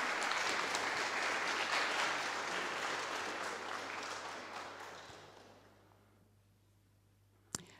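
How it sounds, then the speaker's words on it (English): Outdoor crowd applause at a community children's day gala in Grangemouth, steady at first then gradually fading away into near silence, with one sharp knock near the end. "I think that deserves an extra round of applause"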